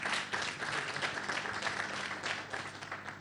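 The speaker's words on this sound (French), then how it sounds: "je vous demande d'applaudir très très fort" An audience at a Malian conference debate applauds the honorable Belko Ba, a dense, even wash of clapping held steadily throughout.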